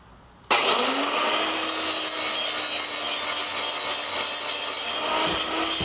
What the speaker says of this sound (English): I might as well deburr this while I'm at it.